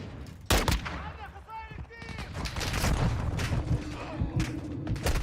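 Rapid gunfire and sharp shots crackle through a Call of Duty Warzone 2.0 DMZ match on PS5, dense and continuous with booms, while a player talks over the fighting.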